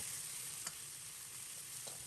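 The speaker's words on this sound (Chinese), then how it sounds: "炒肉片时开中火，用勺子将其扒拉开，只要锅润得好，炒肉绝对不会粘锅" Pork slices stir-fry over medium heat in a well-seasoned wok with a little scallion oil, giving a steady close sizzle broken by a few quick scrapes of a ladle.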